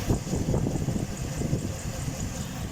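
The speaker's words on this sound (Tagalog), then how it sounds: "At ito, umaandar na po siya mga ka-GM, no, yung ating makina." A car engine idles steadily at close range, a low continuous rumble with a faint high whine, running without revving in a vehicle being checked for overheating.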